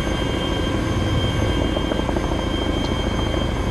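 A helicopter in Arma 2: Operation Arrowhead hums nearby with a steady rotor chop and engine drone, constant and close, with no voices over it.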